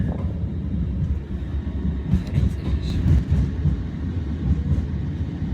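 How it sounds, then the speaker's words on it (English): A running train makes a steady, close rumble and rattle that continues throughout, while a voice speaks briefly over it. "The train is running."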